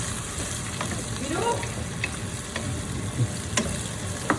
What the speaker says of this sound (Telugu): మూత వేసి పెట్టి కలుపుతున్నాం